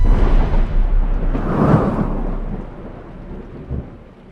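In an animated cartoon, heavy rain pours steadily while a deep roll of thunder rumbles up in the middle and fades away.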